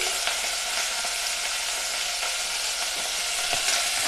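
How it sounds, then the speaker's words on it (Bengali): Lemon-marinated chicken frying in a pan over medium heat, a steady dense sizzle running throughout with a few faint clicks and scrapes, close and even in level, with no voices. "লেবু দিয়ে মাখিয়ে রাখা চিকেন চিকেন দিয়ে আমি আঁচ মাজারি করে দিচ্ছি"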